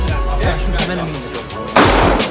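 Gunshots at a shooting range, heavy booming reports with a loud, sharp blast near the end, close and echoing over faint background talk.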